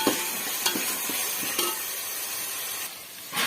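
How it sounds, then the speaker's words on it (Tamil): Onions sizzling as they sauté in a pan for a village-style fish curry, a steady close frying hiss broken by a few scraping stirs. "இது இன்னும் அவ்வளோ வதங்கலை இன்னும் கொஞ்சம் நல்லா வதக்கலாம்"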